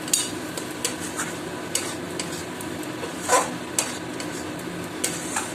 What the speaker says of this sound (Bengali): নাড়বো এটা লোটে মাছের ঝুড়ো যতক্ষণ না শুকনো শুকনো হবে ততক্ষণ নাড়বো